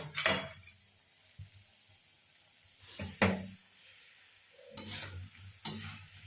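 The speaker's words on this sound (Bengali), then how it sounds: "এই যে সেকেন্ড রাউন্ডের ভাজা চলছে" Bora fritters being fried a second time in hot oil, with a few sharp scraping and clattering bursts from stirring at intervals over a soft background sizzle.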